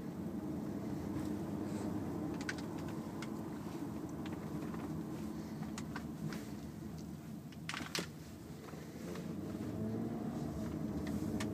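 A 2013 Toyota Avalon accelerates smoothly on a drive, with steady engine and road rumble plus wind noise from inside the cabin, loud and continuous throughout with a brief bump near the middle.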